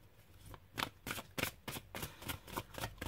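Tarot cards handled and drawn one at a time, giving a series of crisp close riffling and slapping card sounds in quick irregular bursts, with no voices.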